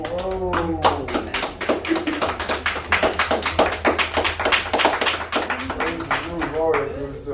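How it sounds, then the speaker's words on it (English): Studio audience applause and cheering for celebrity barbers and hair stylists at a party show, a dense, steady wash of clapping running several seconds alongside an excited host voice and crowd shouts over a low hum. "Clap it up for them"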